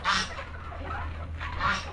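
A brooding turkey on a farm gives two short honking calls, one at the start and one near the end, fairly close and clear over a low steady background hum.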